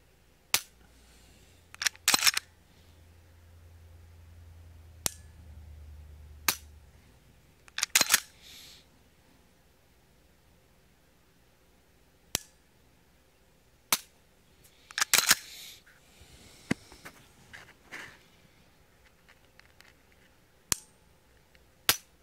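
Sharp, crisp clicks from a Glock 17 competition trigger being dry-fired, about a dozen isolated snaps spread irregularly with quiet gaps between, close and fairly loud, some with a brief mechanical rattle of slide or reset.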